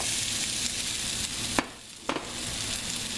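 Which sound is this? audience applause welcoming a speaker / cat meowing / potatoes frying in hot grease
potatoes frying in hot grease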